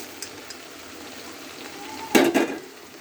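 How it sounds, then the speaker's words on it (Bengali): Fried dried fish tipped into a simmering curry in a pan: a quiet background fry, then a brief loud burst of clatter and sizzle as the fish goes in, fading back to a soft simmer. "আমি এখন এখানে যে মাছটা ভেজে রেখেছি আমি মাছটাকে এখন এর মধ্যে দিব"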